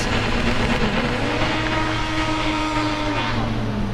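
A Formula Student race car engine revs on the skid pad at a Formula Student Germany event, a steady loud drone with pitch that rises and dips as the revs change.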